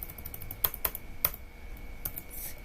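Computer keyboard typing while coding, a handful of sharp key clicks spaced irregularly over a low steady hum, close and moderately quiet.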